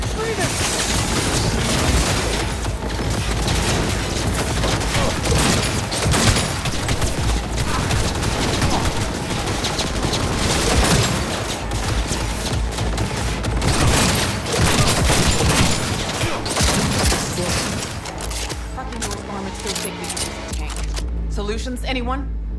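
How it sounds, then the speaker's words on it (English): Gun turrets open up in Cyberpunk 2077 with sustained, dense automatic fire and booming impacts, loud and continuous for most of the stretch before thinning out near the end, with shouted voices in the mix. "Turrets! Watch out!"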